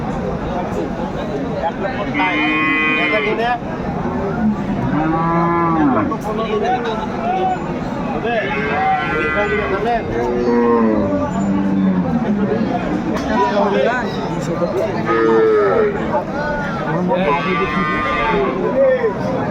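Cows and calves moo repeatedly at the Aftabganj cattle haat in Dinajpur, Bangladesh; loud, overlapping moos of varying pitch rise above a constant hubbub of buyers and sellers talking nearby.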